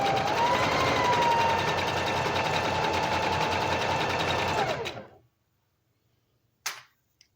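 A sewing machine stitches steadily at high speed for about five seconds, a dense continuous mechanical whir that slows and stops, followed by silence and one brief faint clatter near the end.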